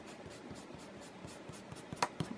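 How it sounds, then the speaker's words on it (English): A pencil scratches and sketches on paper in quiet, rhythmic strokes, close and soft, ending with a few brisk rubbing strokes of erasing. "I'm going to erase this one."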